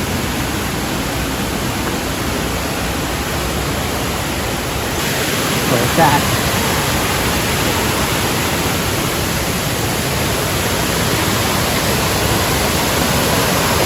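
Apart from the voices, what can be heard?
large waterfall below a cliff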